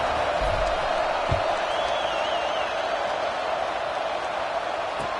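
A stadium crowd fills a college football video game with a constant broad roar at an even level, distant and unbroken, with a faint whistle-like tone drifting over it.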